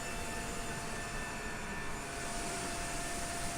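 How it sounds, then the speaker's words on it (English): The engines of a Boeing 747-8F freighter wind down during shutdown, heard as a steady, loud broadband roar with a thin whine running beneath it and no break throughout. "Is that the sound of my plane?"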